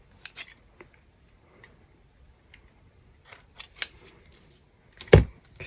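Scissors snipping paper pieces for a handmade junk journal card, a few sparse quiet snips early on and then sharper, louder cuts near the end, with long pauses between.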